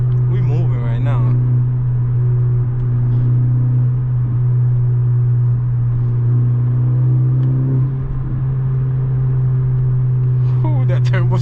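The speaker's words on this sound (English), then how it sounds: "that turbo sounds good" Turbocharged Honda Civic Si engine under a hard pull, a steady, loud, close drone filling the whole stretch, with brief voices near the start and end.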